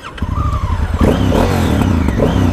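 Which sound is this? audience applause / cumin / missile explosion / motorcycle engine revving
motorcycle engine revving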